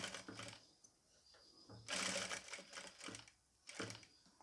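A sewing machine stitches a piece of nighty fabric in short quiet bursts of rapid whirring, stopping and starting with a louder run in the middle, close by and faint overall.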